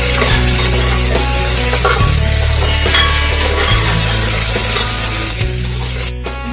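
Sliced onions with ginger garlic paste frying in a pan, with a loud, steady sizzle close up and scraping and clinking as a spoon stirs through the mixture.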